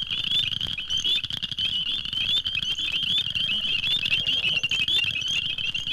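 Cricket frogs call in a bog on an old nature recording, with dense, rapid clicking chirps layered like rattling castanets, sustained and continuous from a close microphone.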